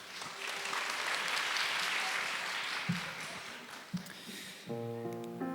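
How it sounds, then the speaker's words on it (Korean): An audience applauds at a village-festival event for a Korean drama, before a poetry reading by an actor. Even crowd clapping for several seconds that eases off, followed by a few thumps and the start of music. "다시 한번 박수 부탁드리겠습니다"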